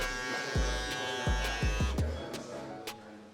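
Electric shaver or clipper buzzing steadily up close while a barber cuts a mid fade on a client, with a few sharp knocks and handling clicks breaking through the hum.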